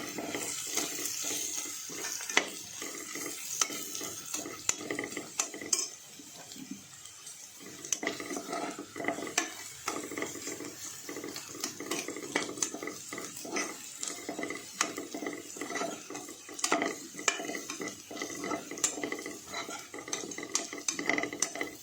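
Garlic chutney roasted and stirred in a pan for a spiced bottle gourd sabzi, with steady scraping and clinking of the spoon against the pan over a soft background hiss, no voices.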